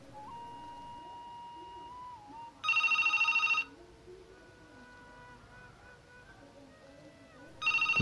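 A landline telephone rings for an incoming call, one loud electronic ring burst of about a second followed by the start of another, over a faint background hum.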